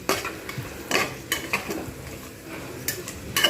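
Mutton curry with potatoes being stirred and fried in a pot, with a spoon scraping and clinking against the metal in irregular strokes over a low sizzle, close by.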